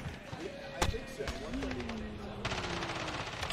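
Rapid MP7 submachine gun bursts in Call of Duty multiplayer, loud staccato shots with a sharp crack near the start, mixed with game sounds and voices talking over the action.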